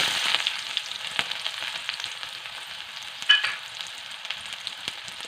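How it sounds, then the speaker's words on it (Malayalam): Mustard seeds splutter in hot oil with onion, giving a steady frying hiss dotted with irregular sharp pops and crackles, close and moderately loud with no talking. "കടുവ് താളിക്കാൻ പോണേ കടുവ് പൊട്ടുന്നേ ഇതിലോട്ട് ഉള്ളി"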